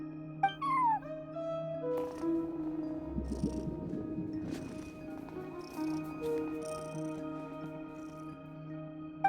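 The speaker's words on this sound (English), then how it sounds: "No one except for a cat watching over the front desk." A cat at a front desk in Genshin Impact lets out a few short meows amid game music and soft interface tones, the calls brief and close against a steady musical backdrop.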